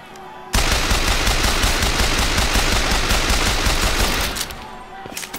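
Sustained rapid automatic gunfire from a new weapon in Bioshock Infinite, loud and continuous for about four seconds before cutting off, with no talking over it.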